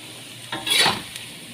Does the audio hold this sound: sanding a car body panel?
no